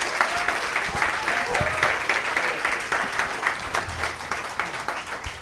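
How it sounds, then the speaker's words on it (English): A bookstore audience gives a poet a warm round of applause, many hands clapping in a dense, sustained patter that swells slightly and carries on for several seconds without talk. "Let's give him a round of applause, everybody."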